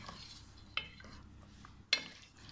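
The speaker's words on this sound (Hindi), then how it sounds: "इसको अच्छी तरह मिक्स कर लेते हैं।" Green chicken curry is stirred in a pan over a faint sizzle, with two sharp utensil scrapes and clinks against the pan standing out from the quiet cooking.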